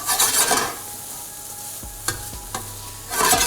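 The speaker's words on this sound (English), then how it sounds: "Give that a little stir around." A pan of frying food, seasoned with garlic powder and pepper for a vegan breakfast, sizzles while a spatula stirs it in a few close scrapes and taps. A louder burst of sizzling comes at the start and again at the end.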